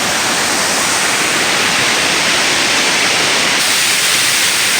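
Steady, dense rushing of flowing water, loud and continuous throughout with no voices.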